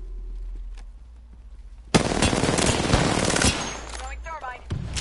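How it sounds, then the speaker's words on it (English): Gunfire in the Apex Legends video game strikes the player, a sudden loud burst of rapid automatic shots that keeps rattling for a few seconds after a quiet stretch, with brief game voice lines in the mix. "Shots fired, and they're hitting me."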